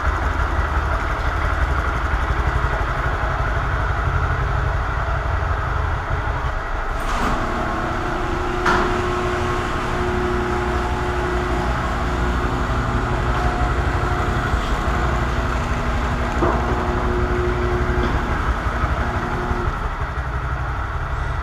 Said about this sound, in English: All right, let's rev it up and see how mean these things can get.